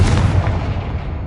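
A Confringo blast spell exploding in Hogwarts Legacy, a loud, close, deep boom that rumbles on and slowly fades, with no talk over it.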